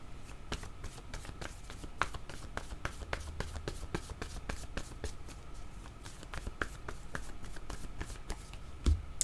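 Oracle cards shuffled and drawn during a reading, a steady run of soft, rapid papery riffles and flicks repeating near the microphone, with a slightly sharper card snap near the end.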